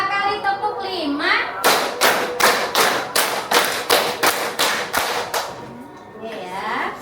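Pupils in a classroom clapping game strike two quick rounds of five crisp hand claps, about ten even beats in a row, loud and close, with voices heard around them.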